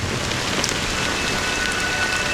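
Rain falls steadily, a dense, even patter of drops on a surface that stays constant and fairly loud throughout.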